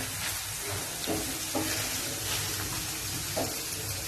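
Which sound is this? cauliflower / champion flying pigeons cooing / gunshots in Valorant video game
cauliflower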